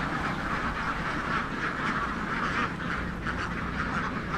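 A large flock of more than two thousand farmed ducks quacks together in a dense, continuous chorus, with many overlapping calls close by and no talking.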